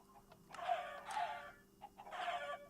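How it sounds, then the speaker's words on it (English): Chickens dying in a Minecraft farm, a video game sound: three short, fairly loud squawking bursts in quick succession with brief pauses between them, heard alone. "So ready for the noise of dead chickens."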